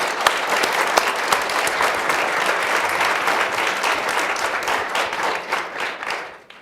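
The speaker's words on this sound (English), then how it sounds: "A round of applause for our panelists up here." Conference audience applauding panelists at a space-policy event, dense steady clapping from a full room that swells, holds and fades out over several seconds, no talk.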